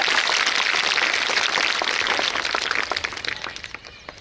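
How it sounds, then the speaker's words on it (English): Primary school children clapping in a classroom during an Independence Day celebration, a brisk dense round of many small hands that stays loud for a few seconds, then thins into scattered claps and trails off. "Clap. Applause the clap."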